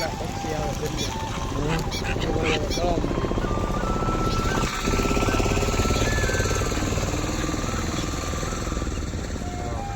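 Ducks quacking and honking amid a busy outdoor din at a city dam in Bhuj, Kutch, with people chatting over the birds throughout.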